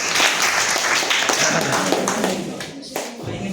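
A classroom of students claps for a classmate during a general knowledge quiz, producing loud, dense, continuous applause that tapers off slightly toward the end.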